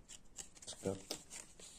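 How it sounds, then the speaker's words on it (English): A deck of cards for the Enemy Action Kharkov board wargame is shuffled quietly, with soft, papery riffling and scratching in short bursts. "shuffle those cards"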